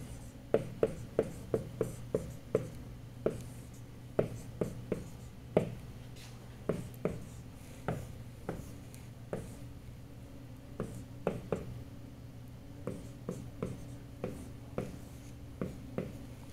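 Chalk tapping and scraping across a board during a physics lecture on Coulomb's law, with dozens of sharp, close clicks in an uneven rhythm over a steady room hum.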